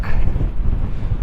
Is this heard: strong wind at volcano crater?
yes